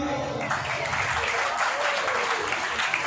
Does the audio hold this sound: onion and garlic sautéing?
no